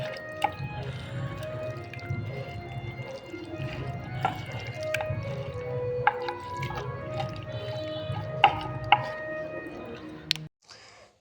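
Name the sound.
hands mixing chicken with salt and soy sauce marinade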